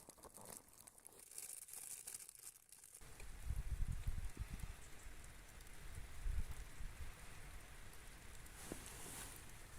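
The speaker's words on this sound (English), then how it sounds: "find somewhere to shelter until the rain goes off" Rain falls steadily in the Scottish Highlands, a soft wash of drops that thickens after a few seconds into a fuller patter with scattered heavier hits. The sound is fairly faint and continuous, with no voices.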